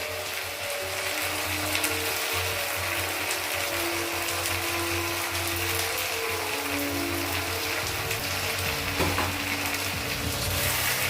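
Chopped tomatoes frying in a kadai with a ground paste of ginger and char magaj, giving a continuous loud sizzle and bubbling under a steady low hum, with faint shifting stirring noise and no voices.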